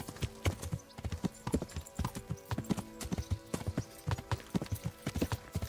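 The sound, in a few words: horse hooves clip-clopping while riding, Kingdom Come: Deliverance video game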